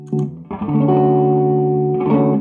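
A clean electric guitar through a tube amp at full volume, miked with a Sennheiser 609, rings out with sustained chords, full and loud with a warm amplified tone and a slight reverb tail.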